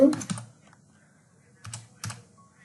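Fingers type on a computer keyboard in short bursts of clicks: a quick cluster, then a pause, then two more brief taps, close and fairly quiet.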